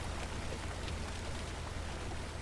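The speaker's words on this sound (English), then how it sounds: "Kind of let the rain wash off the dirt on this tractor." Steady rain falls in the farming game Farmer's Dynasty, heard from a tractor cab as a constant dense hiss of drops with a low rumble underneath, even and unbroken throughout.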